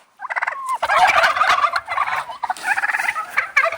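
Turkeys gobble in a loud, near chorus of overlapping rattling calls on a farm, with several bursts running nearly continuously.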